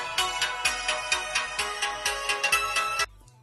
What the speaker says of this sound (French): j'ai pris une musique libre de droit. Donc vous pouvez l'entendre sans l'enceinte déjà au départ